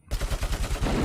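Sniper gunfire in the shooter game RoboCop: Rogue City, loud close shots following in quick rhythmic succession across a second, no talking over them.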